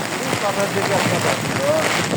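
Steady rain patters on an umbrella close overhead, a dense continuous hiss with a faint voice murmuring underneath.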